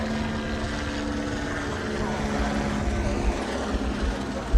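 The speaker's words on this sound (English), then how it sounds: "The helicopter just flies over us at the end of the stage" Helicopter flying over the end of a rally stage on Tronqueira, Azores, a steady broadband rotor and engine drone holding for several seconds at moderate level, with a few low thumps near the end.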